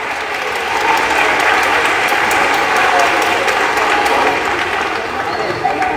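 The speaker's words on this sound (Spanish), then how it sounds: "Adrián, un aplauso para" Sustained applause from a crowd at a concert in a church sanctuary, a dense steady wash of clapping for a performer, with a voice speaking over it.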